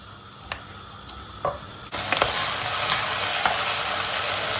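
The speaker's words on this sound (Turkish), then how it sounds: "Ortalama 5 dakika kadar kavurduk." Vegetables sauté in hot oil for lentil soup, first a few quiet stirring clicks, then a loud, steady sizzle with spatula scrapes against the pan, close up with no talking.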